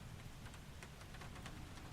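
Steady rain in Microsoft Flight Simulator, falling on a cloudy Vigo, Spain, as a continuous even hiss with soft patter throughout, moderately loud and with no voices.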